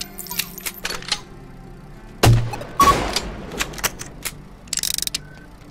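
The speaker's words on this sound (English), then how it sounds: "And free reloads real quick." Weapon reloading in the VR shooter Compound, a series of close, crisp mechanical clicks and ratcheting clacks, including a couple of sharp louder snaps and a quick rattling burst near the end.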